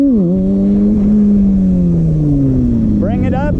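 Motorcycle engine revving close up during wheelie practice, a strong note that rises, then dips and sags slowly, before a sharp throttle blip near the end.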